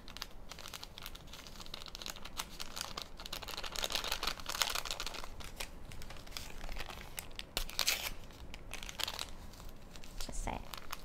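Crinkling and tearing of gelatin packets being opened in a home kitchen while making coconut pudding, a close, faint run of papery rustles and small rips with soft crunches, continuing throughout.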